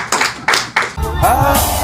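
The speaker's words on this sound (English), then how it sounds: "another hand clap" Sharp hand claps ring out in a church service, three distinct claps in a loose rhythm, followed by a preacher's loud voice speaking over the room.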